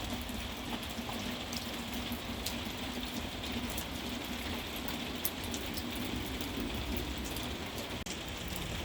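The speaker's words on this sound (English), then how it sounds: "I'm stuck under the shanty roof while it's raining" Steady, dense rain drums on a shanty roof in a garden, a continuous close hiss and patter filling the whole stretch with no speech.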